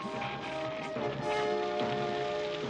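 Heavy downpour in a French Smurfs cartoon, a dense rain hiss filling the short stretch alongside layered music.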